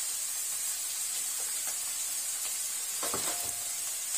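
Chili and turmeric powder fry in hot oil in a pan with a steady close hiss, while a few soft stirring scrapes break through the sizzle.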